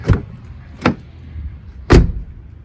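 A Mercedes GLE 350 car door shuts: three solid thumps close up, two quick ones early and a heavier final slam near the end, each clipped and resonant against quiet.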